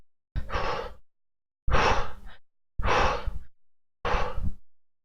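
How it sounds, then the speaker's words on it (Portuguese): Four strong, breathy inhalations and exhalations in a row, each about a second long with short silent gaps, showing shallow, high breathing in the upper chest and shoulders; close and loud with no talking. "nós passamos a respirar com o abdômen também, mas com a parte superior, a parte torácica, com os ombros"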